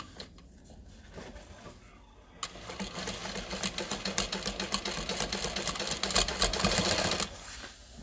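A sewing machine stitches the zipper panel of a fabric tote bag, starting after a quiet moment and running in a steady, rapid mechanical chatter for about five seconds before stopping.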